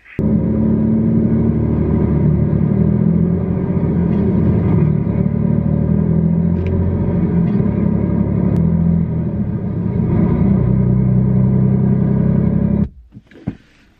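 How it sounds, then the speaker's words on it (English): Semi-truck engine droning as a loud, continuous low rumble with slight shifts in pitch, recorded up close, before it cuts off abruptly near the end. "Now I'm on the sleep sound semi-truck gear shifting, 10 hours of semi gear shifting."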